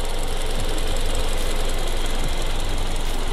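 A Hyundai Grandeur IG 2.5 engine idles steadily at close range, a dense even rumble with a faint ticking texture, no voices.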